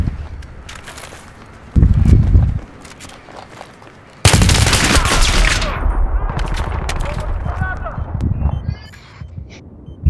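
Rapid bursts of video-game gunfire in a multiplayer shooter match, loud and dense from about four seconds on, with a short heavy blast earlier and players talking over the shooting throughout.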